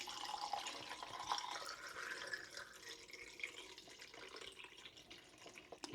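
Distilled water, 600 milliliters, pours steadily into a container for home black-and-white film developing, a faint continuous trickle with soft splashing, nothing else heard.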